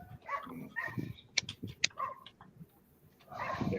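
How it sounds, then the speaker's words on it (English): Small dog, a little red dachshund, barking outdoors in short sharp yaps, fairly near, with muffled voices and background noise before and after the barks. "Some of these dogs barking."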